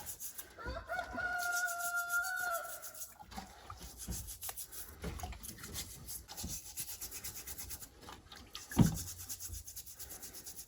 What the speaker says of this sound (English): we're just going to scrub away. This is just a nail brush I got from the dollar store.